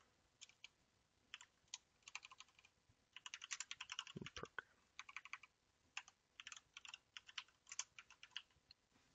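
Fortran code being typed on a computer keyboard, with steady bursts of close, crisp key clicks separated by short pauses and a brief heavier thump partway through.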